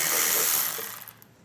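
Ratchet with a 10mm socket loosening bolts on a 2016 Toyota Prius, one loud, close burst of rapid clicking that fades out within about a second.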